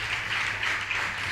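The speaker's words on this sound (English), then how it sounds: "Let's give him another round of applause, please." Audience at a Peter Tosh symposium clapping, a steady moderate wash of applause throughout the short stretch with no voices over it.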